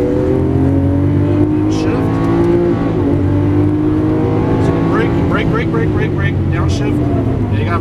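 A 2012 Lamborghini Aventador on a track pulls hard off the brakes, its loud, close engine climbing in pitch through a sustained acceleration with an upshift partway, while a person talks over it.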